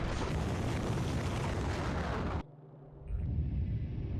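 A rocket launching in Factorio, a dense continuous roaring rumble that cuts off abruptly, leaving a brief quieter gap before a lower broadband roar resumes.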